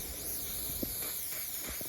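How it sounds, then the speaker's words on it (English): Silicone spray hisses from a can onto drainage pipe joints, a steady close hiss with a few short bursts and small knocks, no talk. "get some silicone spray on the joints."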